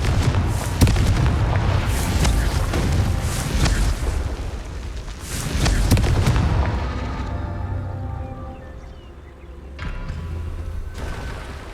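Confringo explosion spell in the video game Hogwarts Legacy, heavy booming blasts with deep rumbling bursts in two main waves, then a ringing, crackling decay and a few fainter pops.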